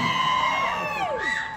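A concert audience at Thunder Valley Casino cheers and screams during a show, a dense, loud wash of high-pitched shrieks and whoops filling the whole moment.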